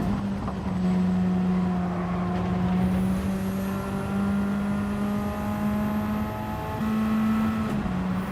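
Simulated Radical race car engine in an online lobby racing game, a steady loud drone holding near-constant pitch with a brief shift up and back late on, sustained throughout with no talk.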